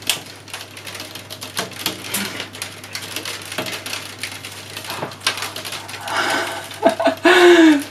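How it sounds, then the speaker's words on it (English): Hail falls outside, a dense irregular patter of small hard impacts clattering steadily throughout, growing busier and louder near the end. "Excuse the noise of hail."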